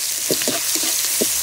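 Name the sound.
tomatoes frying in a pan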